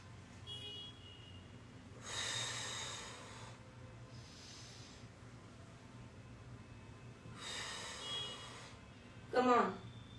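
Two slow, deep breath cycles during an exercise session, each a broad airy rush of inhaling then exhaling, close and alone, followed by a short voiced sound at the end.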